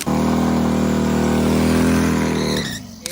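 A turbocharged motorcycle engine revs loudly and steadily at close range for over two seconds, then drops away abruptly, leaving quieter background noise.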